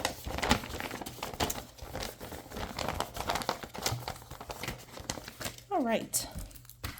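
Packaging trash from a Magic: The Gathering Wilds of Eldraine Commander deck crinkles and rustles close by in bursts while someone talks over it.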